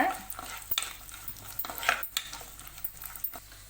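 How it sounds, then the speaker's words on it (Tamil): Cashews and raisins frying in ghee in a pan for rava kesari, giving a low steady sizzle with intermittent scraping and stirring clatter from a utensil, close and moderately quiet with no talk. "நல்ல பலூன் மாதிரி உப்பி வர வரைக்கும் வறுத்துக்கோங்க"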